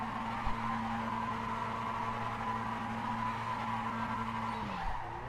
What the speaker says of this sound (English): Get some burnouts going there.